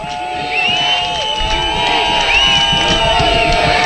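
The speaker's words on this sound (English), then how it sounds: "you can hear the Glacier Peak crowd underneath cheering on the Grizzly defense" A high school football crowd at a Glacier Peak Grizzlies game against Bellevue cheers the defense, rising to a loud sustained roar with whoops and whistles, as a commentator talks over it.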